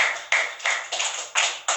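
A congregation at a Spanish-language church service claps in a short burst, sharp close hand claps in an irregular rhythm, about six strikes with no talking over them.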